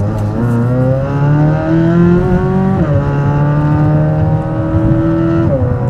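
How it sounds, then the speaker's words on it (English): Corvette C8 Z06 fitted with an AWE catback exhaust accelerates hard, its loud engine note climbing through two quick upshifts with brief dips between gears, recorded close. "Man, I'm so happy I got this AWE exhaust."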